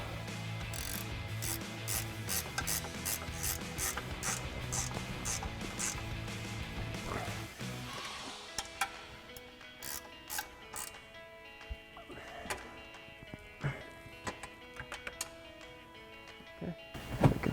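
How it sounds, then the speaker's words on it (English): A 15mm ratchet wrench tightening the strut mounting nuts on a Ford Bronco, giving close, rapid bursts of ratcheting clicks followed by sparser, slower clicks and small metallic knocks. "Now we're going to bring back our 15mm ratchet wrench and tighten down our mounting nuts for our strut."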